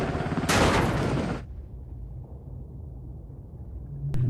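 A gunshot in an action film, a loud broadband crack-like burst lasting about a second, followed by low rumbling background and a brief sharp sound near the end.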